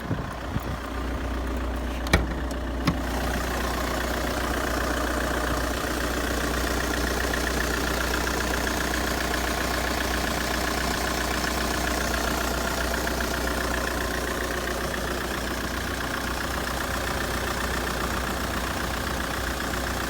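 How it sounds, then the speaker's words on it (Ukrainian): A 2012 Peugeot 508's engine idles steadily nearby, an even low rumble holding the same level throughout after a couple of brief clicks at the start, with no voices. "двіжочок працює бездоганно ніяких парів немає"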